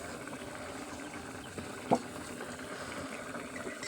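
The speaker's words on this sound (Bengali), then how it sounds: "এমন করে তেলে ছেড়ে দেব। তেলটা একটু গরম কম হয়েছে, গ্যাসের ফ্লেমটা একটু হাই করে দেব।" Tomato chops dipped in gram-flour batter hiss steadily as they fry in oil over a gas flame, a continuous close bubbling broken by one brief sharp crackle.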